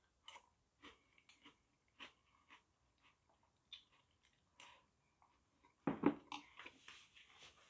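Crunchy Korean hardtack (geonppang) being chewed close up, soft rhythmic crunches at a steady pace, then a louder cluster of crunching toward the end.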